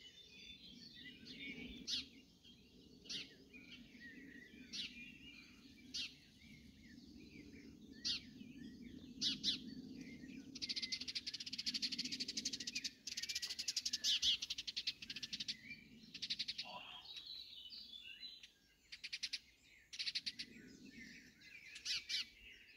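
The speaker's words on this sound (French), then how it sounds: "c'est tous ces oiseaux qui chantent" Many birds chirping and singing in overlapping calls throughout, fairly close and lively, over a low steady background hum.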